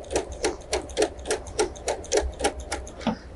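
A Bernina sewing machine fitted with an overlock foot stitches fabric, a steady close rhythm of about a dozen even mechanical ticks running at a regular pace.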